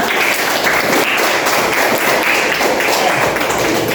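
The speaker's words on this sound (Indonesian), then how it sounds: "Tepuk tangan dulu buat kalian" A group of trainees clapping their hands together in a training session, a continuous, lively patter of claps at close range lasting several seconds.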